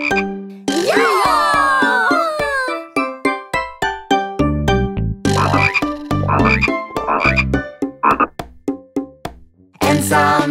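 Loud, close croaks of a small frog in a children's farm song repeat in a steady series of deep, rhythmic pulses, mixed with bright ringing tones and a descending gliding sound.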